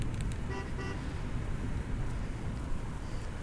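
Two quick electronic beeps from the horn of an Inmotion V11 suspension electric unicycle, short and thin, riding over a steady roar of wind and road noise that continues alone afterward.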